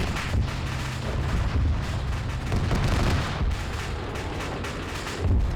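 Long-range missiles launch in a mech combat video game, a continuous rumbling barrage of deep booms and whooshing blasts overlapping one another at steady loudness.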